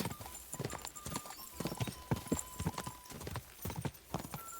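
A horse gallops in the medieval video game Kingdom Come: Deliverance II, its hooves pounding in a fast, steady clip-clop rhythm that stays close and prominent over faint background game sound.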